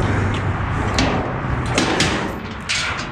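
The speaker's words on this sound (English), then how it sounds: "let's see if we can get this door open" Metal dumpster door pulled open during a dumpster-diving scrap search, giving a scraping, clanking rattle over a steady outdoor rumble with a few sharper knocks.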